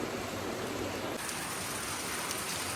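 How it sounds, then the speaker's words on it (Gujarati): Heavy rain pours down steadily, a dense, hissing wash of water on surfaces with no pauses and no voices. "વરસાદ બહુ ચાલુ છે"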